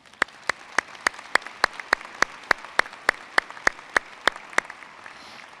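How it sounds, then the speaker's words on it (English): A commencement audience gives the faculty a round of applause, steady clapping with sharp, evenly spaced loud claps standing out above the crowd. "Please join me in saluting our faculty with a round of applause"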